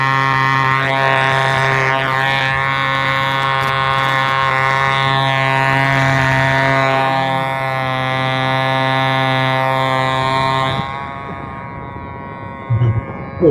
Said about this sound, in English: Little diesel engine.